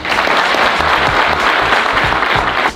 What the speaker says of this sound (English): Ladies and gentlemen, put your hands together for Inky Johnson.